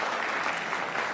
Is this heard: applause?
yes